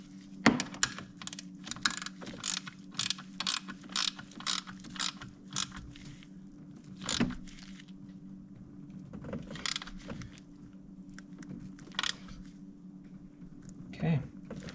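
A ratchet clicks in quick bursts while a fork bolt on a 1988–2000 Honda Goldwing GL1500 is tightened, the sharp repeated clicks coming close with pauses between them over a low background hum.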